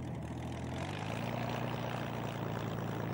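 A Spitfire propeller fighter rumbles as it taxis on a runway, a steady, loud low engine drone with a constant propeller hum that holds evenly throughout, with no voices.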